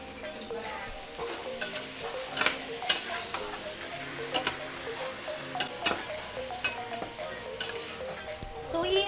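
Beef fries in oil in a pan for carbonara, a continuous crackling sizzle with scattered sharp pops and spatula clicks, moderately close and steady throughout.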